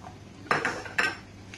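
Pork ribs and black beans mixed in a bowl as a marinade, with two distinct clinks of a utensil against the dish and a fainter third at the end, otherwise quiet.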